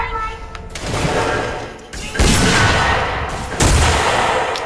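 Bursts of Roblox video-game gunfire crackle and boom in overlapping volleys, loud and close, with a voice talking faintly underneath.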